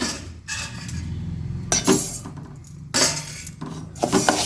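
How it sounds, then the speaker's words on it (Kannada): Rice going into a warm pan with mung dal and being stirred by hand, heard as several bright metallic scrapes and clinks of a spoon against the pan, spaced about a second apart, with quiet pauses between. "ಈಗ ಅಕ್ಕಿ ಹಾಕ್ತಾ ಇದ್ದೀನಿ"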